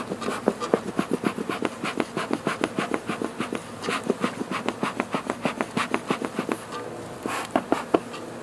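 Honey bees hum around an open hive during a hot summer inspection, the buzz overlaid by a quick, regular series of rhythmic strokes or puffs repeating close by.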